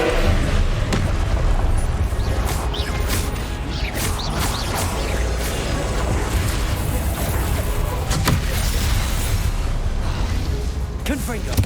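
Repeated Confringo blasting-spell explosions in the Hogwarts Legacy video game, booming bursts over a dense, continuous mix of combat effects and shouted spell voices.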